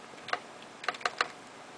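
A few scattered keystrokes on a computer keyboard that controls several computers from a chair-mounted setup, heard as soft isolated clicks in a quiet room.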